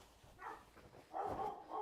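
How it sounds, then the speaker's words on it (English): A pet dog barks indoors in a home sewing room, a few short yips and woofs close by, the louder bursts coming in the second half. "I'm sorry, that's my dog."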